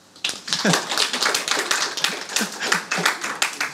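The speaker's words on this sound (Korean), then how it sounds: "동의하시면 박수 한번 치고" A small group claps together at a Korean metal workers' union political school lecture, a steady run of sharp, fairly close hand claps lasting several seconds with no talking over it.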